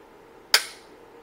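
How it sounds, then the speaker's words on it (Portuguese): A striker-fired pistol's trigger is pulled and it fires with a single sharp, close crack that decays quickly, with quiet room tone before and after. "Ouviu o disparo? Essa usa um sistema de percursor."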